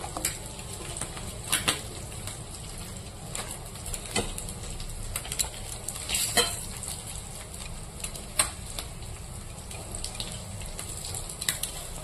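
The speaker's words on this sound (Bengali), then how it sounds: "এখানে যে শাকটা দিয়ে দিলাম, এবার এটাকে একটু নাড়াচাড়া করে তারপরে ঢেকে দেব" Washed greens are stirred in hot water in a pan with soft, scattered scrapes and light clinks over a steady background hiss. Occasional sharper ticks punctuate the movement.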